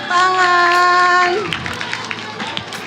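A group of children claps together at a school anti-drug awareness session, after a tonal voice-like sound fades; the clapping is scattered and moderately loud with brief chatter mixed in.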